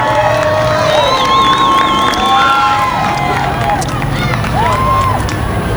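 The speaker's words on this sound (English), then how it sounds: "there are a lot of folks up there in the grandstand that want to cheer him on" A grandstand crowd at a weekly speedway race cheers a driver, with whoops and shouts rising over a steady roar of crowd noise and chatter nearby.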